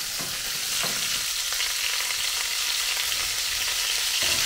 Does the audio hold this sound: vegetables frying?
yes